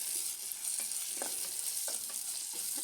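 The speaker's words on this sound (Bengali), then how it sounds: "এখন পেঁয়াজগুলো ভুনা করতেছি।" Onions fry in a new mini cooker with a constant soft sizzle, broken by a few faint scrapes and taps of stirring; no voices.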